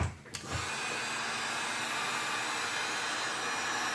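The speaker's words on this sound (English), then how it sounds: "Then I'll take the heat gun." A heat gun blows a steady, loud airy roar while shrinking heat-shrink tubing on wires, starting right after a quick click and staying constant to the end.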